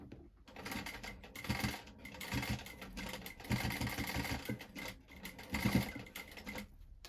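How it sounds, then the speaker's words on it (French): Sewing machine stitching around a zipper pouch in rapid bursts, a close, rattling chatter of needle strokes that starts and stops several times with short pauses between runs. "je vais piquer voilà, sur le haut, sur le côté, en bas et sur l'autre côté, avec bien un point d'arrêt à la fin"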